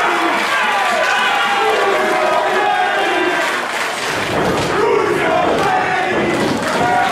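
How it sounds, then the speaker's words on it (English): Wrestling crowd at a CTWE heavyweight championship event chanting in loud rhythmic unison, a dense roar of voices filling the hall throughout, with occasional thuds beneath. "The chant from the crowd, who's your Vladdy?"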